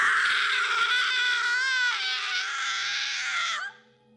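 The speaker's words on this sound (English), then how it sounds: "I was cut off by a shriek of terror." A woman's high, sustained shriek of terror rings out loud and close, wavering in pitch for several seconds before cutting off abruptly into quiet.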